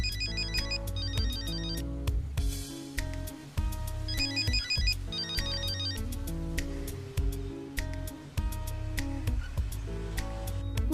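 A phone ringtone plays repeatedly without being answered, its electronic ring cycling in short bursts over steady background music in a drama scene.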